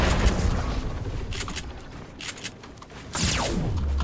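Quad launcher rockets explode during a Fortnite duos match. Muffled booms and bursting blasts roll through, ending in one louder explosion with a falling whoosh.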